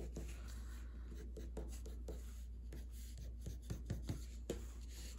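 Pencil shading small crisscrossing lines on white paper while drawing a squirrel, a close, dry scratchy scraping in quick uneven strokes with brief pauses, no talking.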